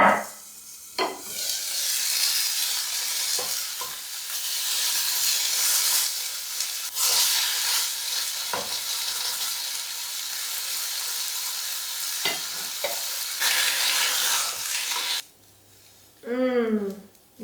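Black bream frying under a lid in a pan gives a loud, steady hissing sizzle with a few sharp clicks and knocks, then fades near the end as a person talks briefly.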